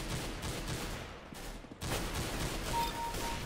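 Rapid gunfire in the video game CS:GO with an AWP sniper rifle in play, a dense burst of sharp cracks and echoes that briefly drops out, then resumes at full loudness.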